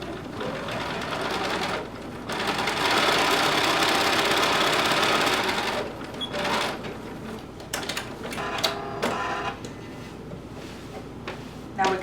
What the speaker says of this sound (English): And then we're going to sew across the top.